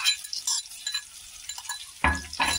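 Ginger, garlic and coriander paste sautés in hot oil in a pan, faint light sizzling punctuated by a couple of sharper utensil clinks near the end.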